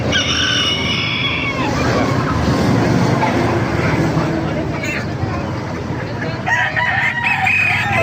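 A rooster crows loudly nearby while hens cluck at a chicken market in Baliuag, Bulacan, with a crowd murmuring and chattering in the background throughout.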